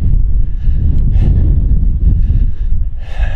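Loud, low wind rumble buffets the microphone throughout on a windy day outdoors at a coyote trap set, with some faint rustling and scraping nearby and no speech.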